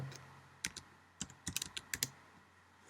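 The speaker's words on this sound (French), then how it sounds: "Et je valide avec le bouton entrée derrière le clavier." Keys on a computer keyboard clicked in an irregular burst of about a dozen sharp taps, close and quiet with short pauses, no voices.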